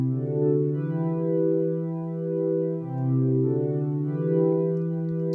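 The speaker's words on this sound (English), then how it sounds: "He layered that with this dark pad." Sustained chords from a soft piano synth blend with a dark, warm pad, swelling and fading in slow waves with no other sounds or voices.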